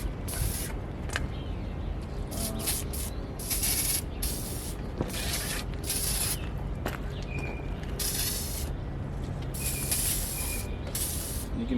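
Bursts of degreaser spray hiss in an engine bay, several short and longer blasts in an irregular rhythm, close and fairly loud, with no talking.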